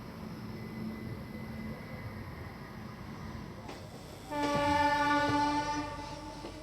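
The Nandigram Express pulls out of Chandrapur station, a low rumble giving way to a loud, sustained multi-tone horn blast near the end, with faint voices in the background.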